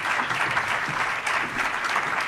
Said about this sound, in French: On les applaudit pendant qu'ils se mettent au pied du podium pour la photo